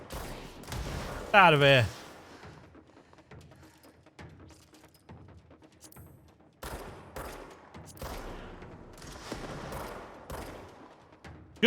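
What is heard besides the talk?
gunfire in Control video game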